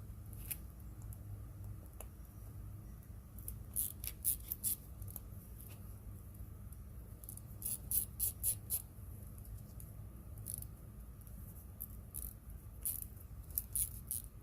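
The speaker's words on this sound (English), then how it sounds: "get a wire brush, and really clean that out good so it's nice and clear so you can see through it good" Quiet, quick bursts of wire-brush scrubbing on the spark arrestor of an MBRP muffler from a Can-Am Outlander 650 XMR ATV come in short clustered strokes, with pauses between the groups.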